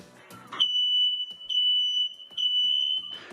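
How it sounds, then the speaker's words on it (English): A smoke alarm under test emits three loud, piercing high beeps in a row, each held about a second, with short gaps between and brief noises before and after. "testing your smoke and carbon monoxide alarms today and every month"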